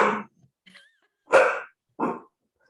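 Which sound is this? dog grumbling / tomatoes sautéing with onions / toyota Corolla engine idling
dog grumbling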